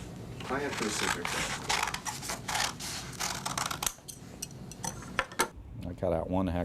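Scissors snip through sheets of paper, cutting out hexagon shapes, in a string of close, sharp crisp cuts with slight metallic clicks, while someone talks over part of it.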